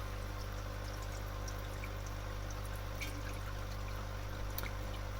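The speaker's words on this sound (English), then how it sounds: "I just put 2 liters of water in" About 2 liters of water poured into the tank of an Aerogarden Farm XL hydroponics unit, a steady continuous stream with a low hum underneath throughout.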